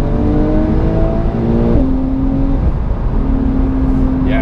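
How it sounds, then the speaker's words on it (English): A 2020 Porsche 911 Carrera S (992) revving hard, its intake giving a continuous drone under road and cabin rumble. The tone holds, drops as the revs change, then rises again, with faint voices mixed in. "That intake noise. They did that right."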